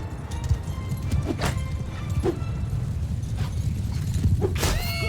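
Hooves of fast, lightly armored horses thud and clatter in a Mount & Blade II Bannerlord battle, a busy rumbling gallop with scattered sharp metallic clanks and a faint tonal cry near the end.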